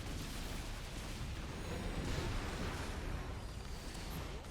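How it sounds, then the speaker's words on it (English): Tank shells striking in StarCraft II, heard as a dense, continuous low rumble of blasts and impacts that stays loud and steady throughout, with no voices. "About 200 damage every time a tank shell hits."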